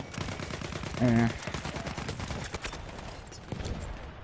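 Rapid automatic gunfire rattles in the World War I shooter Battlefield 1, fired from a small slit in a room, as steady repeated shots over game noise, with a brief voice or tone partway through.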